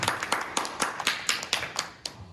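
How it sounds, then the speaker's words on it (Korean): Hands clap in a slow, regular rhythm of about ten distinct claps, fairly faint and roomy, as people give thanks at a church youth worship service. "그 주님께 감사의 박수 먼저 올려드리겠습니다"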